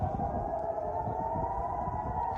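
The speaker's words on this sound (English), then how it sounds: "We hear the air raid sirens going off." Air raid sirens wailing in Israel during missile interceptions, a steady sustained tone held throughout, heard from a distance over a low rumbling background.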